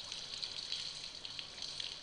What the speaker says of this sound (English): Kind of sounds like a shower now.